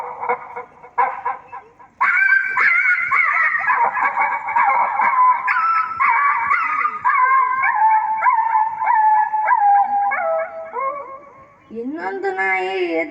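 A voice imitates two dogs fighting, with snarling, yelping and drawn-out howls that rise and fall. The mimicry is close, loud and continuous, with a sharp whining yelp near the end.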